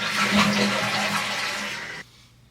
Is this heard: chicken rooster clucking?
no